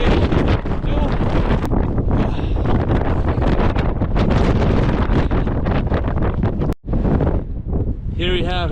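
Strong wind buffeting a microphone outdoors in Grindavík, Iceland, a continuous loud rumbling roar with gusty fluctuations and a brief drop near the end, with a voice speaking over it.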